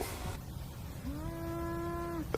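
A single long, steady cow moo with a clear harmonic tone, held for over a second against a quiet outdoor background hum.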